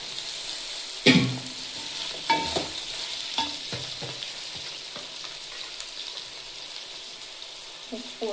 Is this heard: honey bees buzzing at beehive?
no